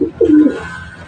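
A racing pigeon from a summer race at Bongabong, Mindoro gives a short, close, throaty coo, rising then settling, with no voices over it.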